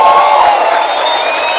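Spectators at a men's 10-ball pool world championship match react with sustained cheering and applause, a dense, loud crowd roar that holds steady throughout.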